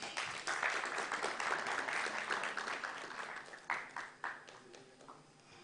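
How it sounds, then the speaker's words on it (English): Audience applause at the final of a privacy moot court competition: steady, dense clapping that swells early, then thins into scattered claps and fades toward the end. "A round of applause."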